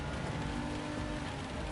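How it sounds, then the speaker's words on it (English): Rain falls in a racing video game, a continuous wash of drops pattering on the surface, fairly quiet and even, with no talk over it. "here's the rain starting for Sam in the sector 3"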